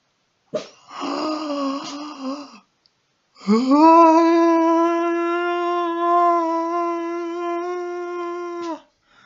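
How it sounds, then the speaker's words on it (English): A dog howling indoors, a short wavering yowl followed by a long sustained drawn-out howl, close and clear with no talk over it. "my dog's yelling at me"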